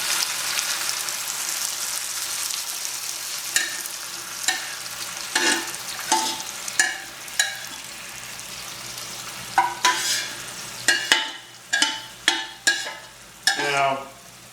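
Beans and their cooking liquid pour from a pot into a hot skillet for feijão, giving a continuous sizzle and frying hiss with a series of sharp clacks and stirring scrapes that grow more frequent toward the end.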